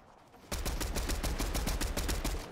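Rapid gunfire in Fortnite during a tournament match, a loud steady burst of evenly spaced shots that starts suddenly and runs to the end.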